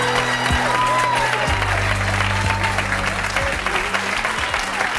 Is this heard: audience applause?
yes